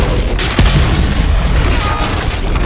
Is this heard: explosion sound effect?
yes